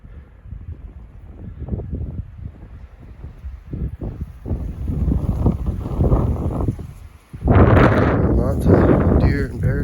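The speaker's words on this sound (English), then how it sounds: "Super windy, which is good." Strong wind buffets the microphone high on a mountain about 4,700 feet above a lake, rising into heavy roaring gusts near the end, while someone talks through the first part.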